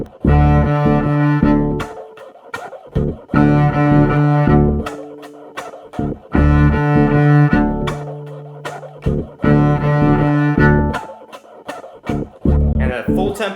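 A cello alternates groups of four bowed arco notes with four percussive chops, repeating in a steady rhythmic pattern, close and clear.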